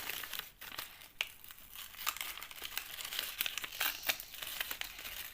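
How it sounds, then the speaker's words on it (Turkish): Plastic wrapping crinkles and rips continuously up close, a dense, scratchy rustle with sharper tearing bursts throughout, no talking. "Bakın yırtıyorum"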